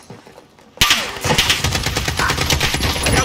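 Rapid automatic gunfire in Call of Duty multiplayer, starting abruptly after a quiet moment and continuing as a loud, dense stream of shots with a rumbling background.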